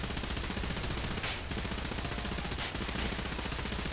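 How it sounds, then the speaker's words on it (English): Rapid gunfire from small boat guns in the War Thunder naval battle, a dense continuous rattle of shots at steady loudness with two brief dips, no talking. "That thing's shooting at me."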